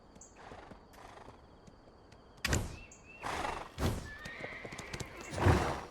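In the fantasy MMORPG Black Desert, a horse whinnies and snorts several times over quiet ambient game sound, with hoof clip-clops and a few soft thunks scattered between the louder neighs.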